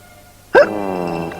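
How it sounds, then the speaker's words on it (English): A cartoon rabbit from Animals of Farthing Wood gives one sharp, loud hiccup, followed by a short voiced tail that fades out, close and alone. "cured Rabbit's hiccups though, didn't it?"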